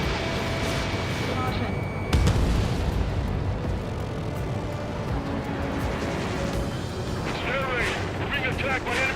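Anti-aircraft fire in Ace Combat 7 combat: rapid cracking bursts and a heavy boom amid steady battle noise, with a voice heard speaking over the din.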